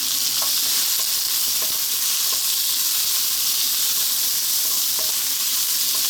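Onion, ginger and garlic frying in oil over super high heat for sweet and sour pork, a loud continuous close sizzle with faint stirring clicks scattered through it.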